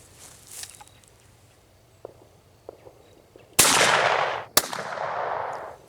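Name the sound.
gunshot from a Stevens 22/410 combo gun firing .410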